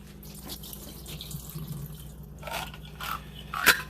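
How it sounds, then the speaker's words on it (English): Cold tap water runs steadily from a faucet into a sink as canned blueberries are rinsed in a strainer, a soft continuous wash with a few brighter splashes near the end. "I'm going to use my strainer to clean them and rinse them with water."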